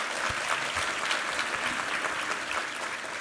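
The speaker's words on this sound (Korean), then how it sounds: "우리 하나님께 감사와 영광의 박수 올려드리겠습니다." A church congregation at a Sunday worship service breaks into steady, full applause, a continuous wash of many hands clapping together, even in level and filling the room.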